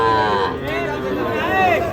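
Shahiwal cattle low repeatedly at a busy cattle market, long drawn-out moos rising and falling over a murmur of crowd chatter.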